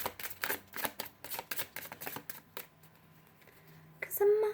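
Cards are shuffled in quick riffling bursts close by, followed by a short pause and then a voice.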